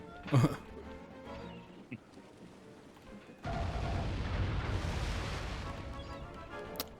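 Cannons boom in the Sly 3: Honor Among Thieves video game: one sharp, heavy blast early on, then a long, rumbling wash of explosive noise after a quiet stretch.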